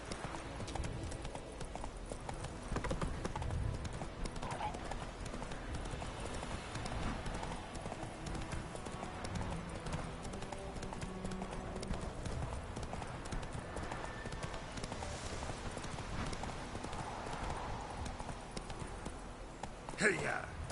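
Horse hooves gallop in the Witcher 3 video game, a rapid, steady clip-clop rhythm running the whole time at moderate level, with a voice talking over it.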